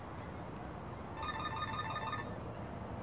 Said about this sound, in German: Das Telefonieren kann ich Toni leider nicht verbieten. Ich geh mal ran, ja